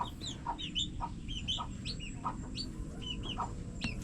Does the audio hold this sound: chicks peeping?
yes